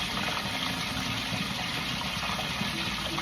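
Pork crispy pata deep frying in hot oil, a dense, steady sizzle with crackling pops, close and fairly loud throughout.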